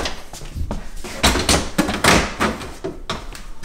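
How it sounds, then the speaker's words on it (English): Plastic drawers are pulled out of an LG fridge, with a run of loud knocks, scrapes and clunks as they slide and bump free, close-up and with no talk. "Take out the middle drawer first, then the side drawers."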